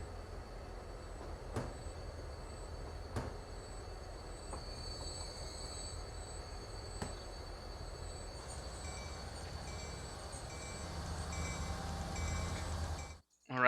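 Commuter trains running in the railway simulation game Transport Fever 2: a continuous rolling rumble with faint wheel squeal tones and a few soft periodic clicks, steady at moderate level before cutting off abruptly.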